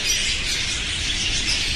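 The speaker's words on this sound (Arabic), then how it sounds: "هاي طيور الحب" Caged lovebirds at a Baghdad bird shop squawk and chatter in a dense, continuous flock, close and fairly loud, with faint wing flutters and no talk.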